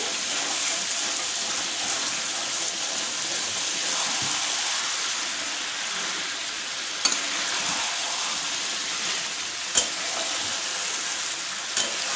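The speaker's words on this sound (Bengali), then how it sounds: "জলটা দিয়ে একটু কষাতে থাকি" Water goes into a pan of duck curry with bean seeds, making a continuous loud rushing hiss that holds steady for several seconds, with a couple of brief knocks near the end and no voices.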